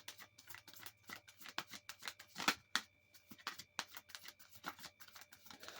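Quiet, rapid riffling and snapping of playing cards being shuffled, a series of crisp papery bursts close by with no talking.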